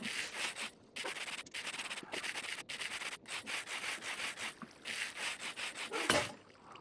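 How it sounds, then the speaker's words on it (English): Ore is sanded down with sandpaper in modded Minecraft, a close, steady series of rhythmic rubbing and scraping strokes with brief gaps between passes, heard alone without talk. "you'll right click, and you'll actually sand it down"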